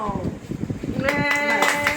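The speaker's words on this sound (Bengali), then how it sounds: "হাততালি দাও" A group clapping hands at a vanilla and chocolate cake class, about a second of quick rhythmic claps followed by voices calling out over a sustained cheer.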